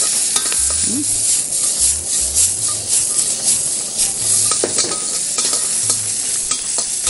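Green beans are stirred and tossed in a hot wok, a steady close sizzle of frying broken by repeated scraping strokes of the utensil against the metal, with no voices.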